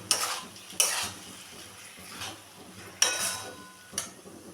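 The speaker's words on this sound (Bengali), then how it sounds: "মুগ ডালটাকেও মিশিয়ে নেব।" Mung dal, fried and then washed, stirred into a pan with a spoon, sounding as a few distinct scraping strokes over a soft background sizzle, with no talking.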